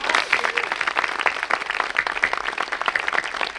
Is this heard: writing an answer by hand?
no